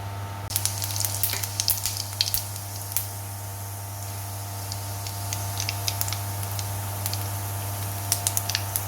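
White and black cumin seeds sizzling in hot frying oil left from frying paneer kofta balls, a steady close crackle with scattered sharp pops and spits throughout and no talking.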